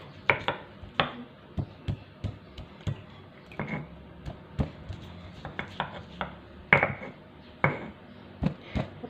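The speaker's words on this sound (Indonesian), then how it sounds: "Bawang merah dan bawang putihnya mau saya ulek." Shallots and garlic pounded with a stone pestle in an ulek mortar for bakwan kangkung batter, a steady series of close, sharp knocks and scraping thuds in an irregular rhythm, with no talking.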